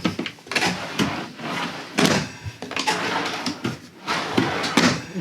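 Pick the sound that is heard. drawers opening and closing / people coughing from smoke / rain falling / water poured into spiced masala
drawers opening and closing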